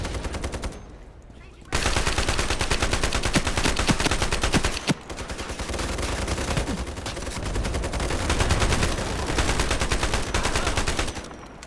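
Rapid automatic gunfire from the online shooter Ironsight, dense sustained bursts of machine-gun fire filling nearly the whole stretch, loud and close, broken by a brief pause near the start and another short gap midway.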